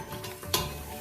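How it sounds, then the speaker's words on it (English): Hot coconut oil sizzles softly in a pot for curry, a faint steady frying hiss with a brief louder crackle partway through and no talking. "So our coconut oil is ready. You can tell by, you can actually hear it, it starts to make like a sizzle sound."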